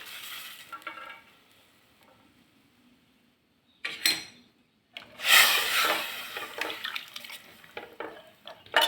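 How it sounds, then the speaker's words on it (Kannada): Cooked sprouted beans and their cooking water are tipped into a pot of fried onions, giving a short splashy burst, then a longer wet sloshing pour with scraping against the pot, after a quiet start. "ಈಗ ಬೇಯಿಸ್ಕೊಂಡಿರುವ ಮೊಳಕೆ ಕಾಳು ಮತ್ತು ಮೊಳಕೆ ಕಾಳು ನೀರು ಹಾಕೊಳ್ಳೋಣ."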